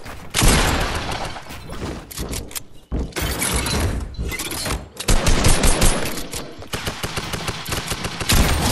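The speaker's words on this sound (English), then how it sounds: "I'm hitting him with the SMG" Rapid SMG gunfire in a video game arena match, loud close bursts of automatic shots broken by short pauses and mixed with game impact and shatter effects.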